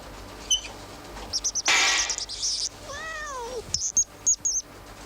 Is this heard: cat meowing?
yes